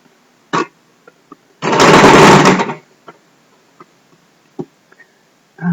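A sewing machine stitching in a garment sleeve runs in one loud, close burst of about a second, with faint clicks and handling noises before and after.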